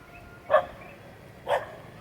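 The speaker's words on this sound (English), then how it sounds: "Always in the Philippines, you got dogs. This guy doesn't like me." Dog on a Philippine neighborhood street barking at a passing motorbike, two sharp barks about a second apart, fairly close and alone over quiet background noise.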